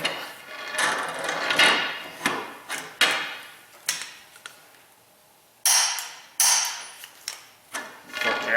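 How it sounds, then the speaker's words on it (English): Tightening the axle nut on a Honda Civic during a CV axle replacement: a series of sharp metallic clicks and scrapes in short bursts with pauses, close and fairly loud, no talking. "And we just gotta tighten down the axle nut."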